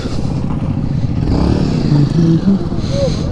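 A group ride of about 21 motorcycles on a mountain route near a fort and reservoir: loud, continuous engine rumble with rising revs and passing bikes close by, wind buffeting throughout.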